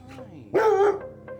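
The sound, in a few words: dog barking from under a table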